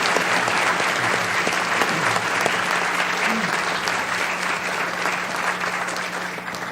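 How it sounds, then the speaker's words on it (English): An audience applauds candidates at a city candidates forum, producing a loud, sustained wash of clapping that holds steady throughout and tapers slightly at the end, with no talk over it. "if we could give everyone, the candidates, a round of applause, I'd appreciate that"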